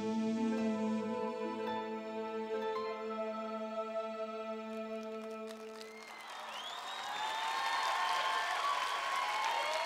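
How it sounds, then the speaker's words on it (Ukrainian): A loud, friendly audience at a junior song contest national selection applauds after sustained musical tones fade out, the clapping swelling into a dense, continuous wash toward the end. "Ось такі гучні дружні оплески"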